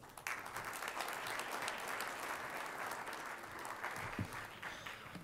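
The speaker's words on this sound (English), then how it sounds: "let's give a round of applause to Dr." A conference audience at an agricultural summit applauds to welcome a speaker, a dense, sustained clapping that stays even for several seconds before easing off.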